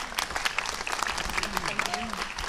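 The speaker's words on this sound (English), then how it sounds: "a great round of applause to both of them" An audience at a student career workshop claps in a steady, dense round of applause, with a speaking voice faintly mixed in.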